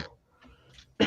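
A single sharp cough bursts out near the end after quiet murmuring, loud and close, during a sports-card break.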